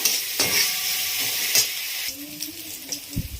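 Tomato and turmeric being stirred in a pan for dahi bhindi, a spatula scraping through them with a soft sizzle and a few short knocks against the metal, close and clear with no talking.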